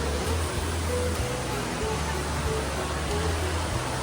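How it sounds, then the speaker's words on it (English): An indoor waterfall in a Bass Pro Shops store roars as a steady broadband rush, with a low hum of people in the background. "This is a second waterfall."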